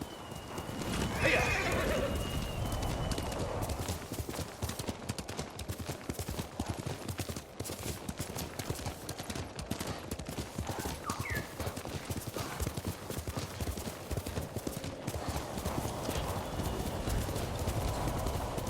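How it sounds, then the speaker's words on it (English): Steady clip-clop of horse hooves on a hard surface in the video game Ghost of Tsushima, continuous and close, with a brief whinny near the start and faint ambient noise beneath. "You're a good horse, Noble."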